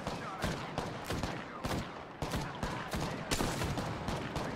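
Rapid bursts of gunfire from the video game Apex Legends crackle throughout, with repeated loud shots stacked close together in an intense firefight.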